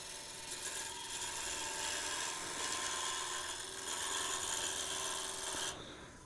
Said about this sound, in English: you can hear it. It's riding the bevel, but it's not cutting anything.